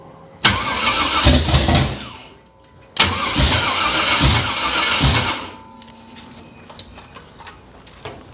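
Abandoned 1968 Chevrolet Camaro being started for the first time, cranking and catching twice into loud rough running, then cutting out, leaving faint clicks and ticks.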